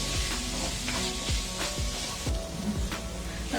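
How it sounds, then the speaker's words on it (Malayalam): Onions sauté on a medium flame for vegetable masala Maggi, giving a constant close sizzle with soft, repeated stirring scrapes and no speech. "ഇത് നല്ലതുപോലെ വഴറ്റിയെടുക്കണം. നമുക്ക് നല്ലതുപോലെ വഴറ്റിയെടുക്കണം. ഇതൊരു മീഡിയം ഫ്ലെയിമിൽ തന്നെ മതി"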